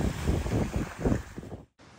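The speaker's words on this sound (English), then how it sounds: "it's howling out there. There are some strong gusts." Strong gusting wind roars and buffets the microphone in uneven gusts in Algonquin Park, then cuts out abruptly near the end before a softer rush returns.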